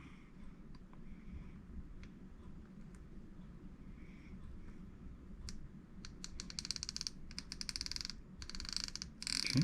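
The clicker pin and spring on a Penn Fathom FTH10XNLD fishing reel produce bursts of rapid, close, sharp clicking. Faint handling noise comes first, and the clicks grow denser toward the end.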